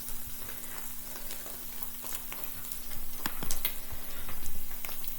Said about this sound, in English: Here are the eggs cooking.